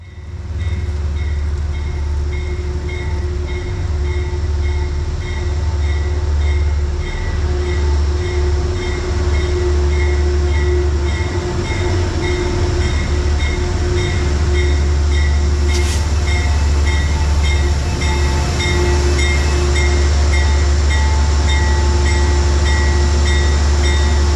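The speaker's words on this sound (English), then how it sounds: "The Penn Central Heritage Unit 217 leads Metro North Train 1844 to a stop at the Merritt 7 station" A Penn Central heritage diesel locomotive rumbles loudly and steadily at close range as a Metro-North commuter train rolls slowly into Merritt 7 station, with high squeals and brief metallic clatter.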